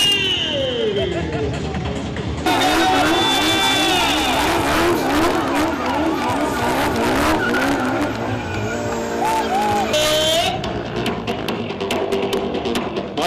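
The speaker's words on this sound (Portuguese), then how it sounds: "Girando, tá no controle o piloto Alex" A stunt car spins and skids at a motor show with long, wavering tire squeals over a roaring engine, loud and continuous, with a crowd faintly audible beneath.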